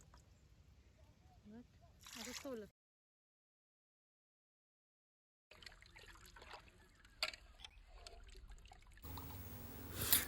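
Pieces of cut karli fish rinsed in clean water: short bursts of pouring, trickling and sloshing, then a silent gap, then renewed splashing and swirling that grows louder toward the end.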